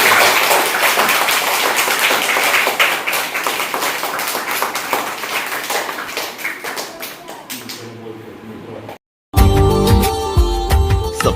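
Students at a school event in Khairatwadi clap together in a long, dense round of applause with fast overlapping claps, tapering off before a short break and a different loud sound.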